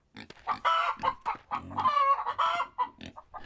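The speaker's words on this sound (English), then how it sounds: "let's go and have a check of these chickens out of curiosity" Chickens and roosters in the Wild West Dynasty video game cluck and squawk in quick bursts, loud and close, with several calls overlapping and no talk over them.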